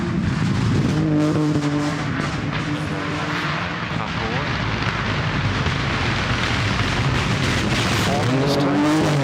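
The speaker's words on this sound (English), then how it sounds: "And Dave and Paula Kedward are on the start ramp in their Peugeot 205 T16, Evo 2." A Peugeot 205 T16 Evo 2 rally car runs on a forest rally stage, its engine note loud and rising and falling with gear changes. A commentator talks over it the whole time.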